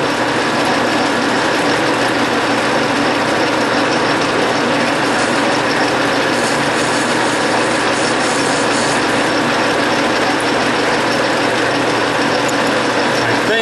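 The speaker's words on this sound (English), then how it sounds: "A little chamfer on the outside." A lathe cutting a small chamfer on a brass stud, a loud, continuous machining whine and grinding hum that holds steady close up throughout.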